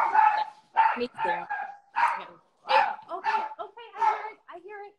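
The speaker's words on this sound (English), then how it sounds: "If I don't open the door after she hears the doorbell, she won't stop barking." A dog barks repeatedly at the doorbell in sharp, close yips and woofs while a person speaks briefly between the barks.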